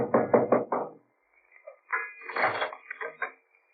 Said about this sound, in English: I knocked for Peterson.